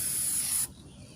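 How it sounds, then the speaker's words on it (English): A spray paint can hissing as it coats furniture, a loud, bright continuous spray up close that cuts off abruptly partway through, leaving quiet room tone. "this is how you want to spray paint."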